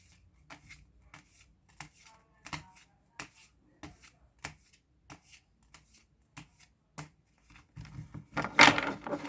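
Tarot cards are drawn and handled from a deck, giving a run of sharp, separate card snaps and flicks at close range with no talking, ending in a louder, denser burst of riffling shuffle.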